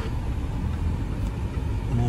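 Steady low road rumble of Mumbai traffic with cars idling and moving nearby in the rain, a continuous dense drone throughout with no distinct horns standing out.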